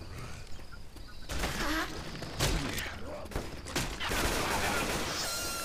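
Rapid bursts of gunfire in the zombie shooter Left 4 Dead 2, several loud volleys across the span over a busy game soundscape.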